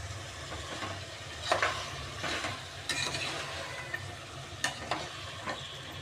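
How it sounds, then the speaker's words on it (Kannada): Green chili, onion and ginger-garlic paste fry in a pan with a continuous crackling sizzle, stirred by repeated scraping strokes of a spatula at close range. "ಹಸಿರುಮೆಣಸಿನ್ಕಾಯಿ, ಈರುಳ್ಳಿ, ಶುಂಠಿ ಬೆಳ್ಳುಳ್ಳಿ ಪೇಸ್ಟ್ ಹಾಕಿ ಚೆನ್ನಾಗಿ ಫ್ರೈ ಮಾಡ್ತಾಯಿದ್ದೀನಿ"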